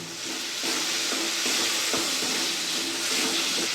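Masala of chopped tomato, slit green chilies and ginger-garlic paste frying in oil, a dense steady hiss of sizzling close up with faint scraping strokes from a stirring spoon.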